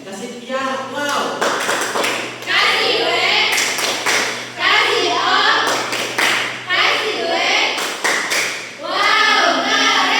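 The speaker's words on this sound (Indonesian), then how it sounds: "Oke, kasih dia tepuk wow." Children clap a rhythmic 'tepuk wow' class clap, several bursts of taps and thumps between stretches of children's and a teacher's voices in a classroom.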